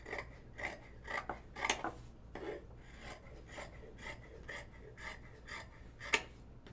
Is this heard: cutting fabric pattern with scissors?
yes